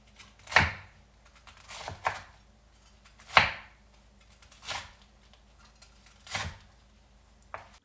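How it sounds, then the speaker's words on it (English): A knife slices crispy fried chicken katsu into strips, giving about six separate crunchy cuts spaced a second or so apart, close and clear against a quiet background. "listen as I cut this, you'll hear how crispy it is"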